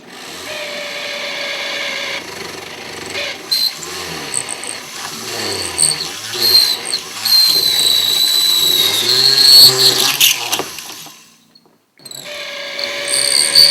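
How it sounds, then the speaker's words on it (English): A Fordham power drill with a stone bit bores through a sculpted skull's eye sockets, whining and grinding loudly and close, with bursts that rise and fall, a brief pause near the end, then drilling again. "This is a Fordham drill with a stone bit. We're going to drill straight through the eyes"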